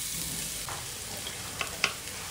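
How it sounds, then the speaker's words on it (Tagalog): Garlic sautéing in a pan for Filipino beef pochero, a steady low sizzle with a couple of sharper spatula clicks near the end, close and fairly quiet with no talking. "Igigisa ko na ang bawang."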